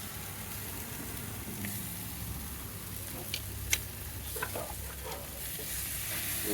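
Zucchini, ribs and burgers sizzle on a smoking grill, a quiet steady crackling hiss with a few sharp pops standing out near the middle.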